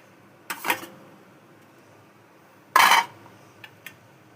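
Plates and cutlery clink while spicy red meat curry and rice are served for two, heard as a few sharp close knocks, one louder clatter in the middle and two faint taps afterward, otherwise quiet.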